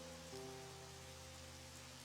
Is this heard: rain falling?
yes